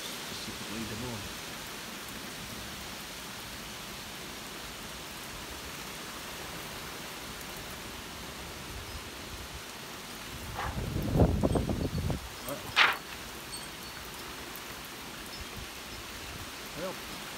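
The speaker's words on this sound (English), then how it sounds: "little log of the rain in Iowa, specifically Des Moines." Steady, faint rain hiss in Des Moines, Iowa, fills the whole stretch, with a brief louder rustle and a couple of sharp knocks near the end.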